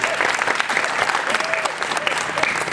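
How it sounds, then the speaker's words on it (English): A crowd at a political town hall applauds in a loud, continuous wash of clapping, with scattered voices beneath it. "So let's give a round of applause."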